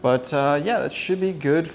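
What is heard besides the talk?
No distinct noise like a dog, phone or traffic.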